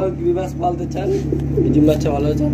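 A pair of Giribaz pigeons coo softly several times, with soft chirps under a steady background hum.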